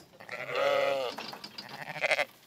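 A single sheep in the Dutch province of Zeeland bleats once, long and wavering and close by, followed by softer rustling and a brief higher cry.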